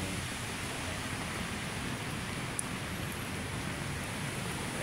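Heavy rain pours over Manila Bay as a steady, dense hiss that runs unbroken from start to finish with no pauses.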